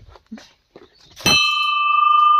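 A single temple bell at a hilltop shrine struck once after some faint shuffling, giving a loud, clear metallic clang that rings on and slowly sustains to the end.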